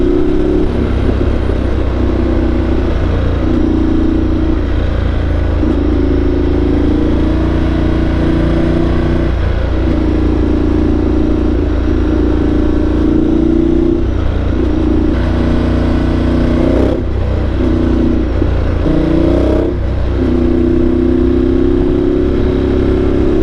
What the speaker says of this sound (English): See, the engine just decreased in RPMs as well.